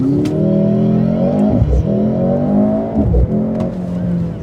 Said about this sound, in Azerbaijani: İndi launch kontrolu ilə başlayacağıq.